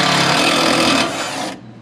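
A power tool whirs steadily as it backs out 8 mm bolts from the air deflector panel under a Ford F-150 2.7 EcoBoost, running loud and close for over a second before stopping abruptly.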